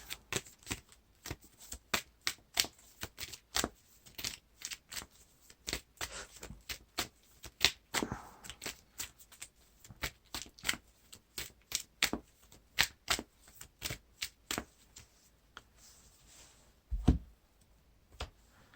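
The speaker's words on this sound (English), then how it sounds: "shuffle my deck." Rapid riffling card shuffles of a Lord of the Rings card game deck repeat in quick bursts, crisp and close, with brief pauses between, ending in a soft thump.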